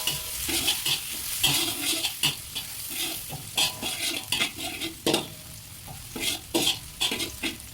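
Garlic and hot peppers frying in oil for Thai basil tofu, a bright sizzle broken by repeated scraping stirs and light clinks of a pan, close and without talk.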